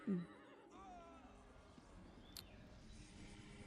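A brief horse whinny in the video game Ultima Online at the start, then a quiet background hum with a faint chirp; no voices.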